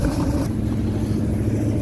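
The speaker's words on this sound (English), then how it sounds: "I got both engines started and running today." Twin engines of a 1996 Sea Ray Sundancer 330 cabin cruiser idling at about 1,500 rpm, a steady low rumble close by with no other sound.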